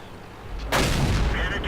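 A tank cannon goes off in World of Tanks, fired from a French FCM 50t. A single loud, sudden boom rolls into a sustained rumble after a quiet lead-in.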